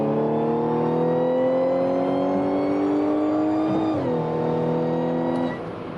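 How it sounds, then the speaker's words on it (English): Audi S5 with a custom exhaust under a wide open throttle pull, heard from inside the cabin: a loud, steady engine drone rising in pitch for several seconds, then a brief dip like a shift before settling and fading slightly. "we'll do a little wide open throttle pull and we'll see what we hit"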